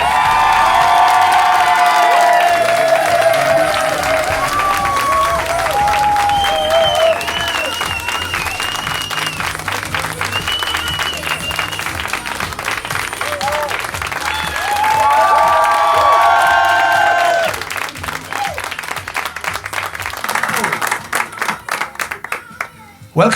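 A live audience applauds and cheers loudly for a singer's entrance on a French television show, with sustained dense clapping, whoops and shouts that swell again briefly before tapering off.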